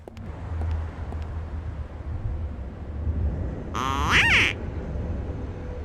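A duck in the video game Secret Files 2 lets out one loud, drawn-out quacking call partway through, rising above a quiet ambient hum.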